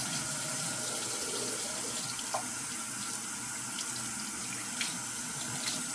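A shaving brush is wetted under a running tap, giving a faint, steady hiss and splash of flowing water with no voices.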